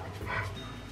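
A dog pants quickly and softly after chasing butterflies, a short burst of breathy huffs close by over faint background noise.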